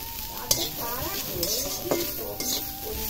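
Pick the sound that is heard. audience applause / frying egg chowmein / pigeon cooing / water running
frying egg chowmein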